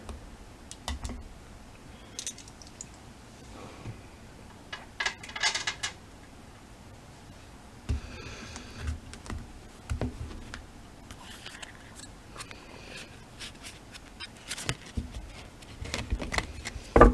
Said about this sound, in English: Gotta shuffle the cards.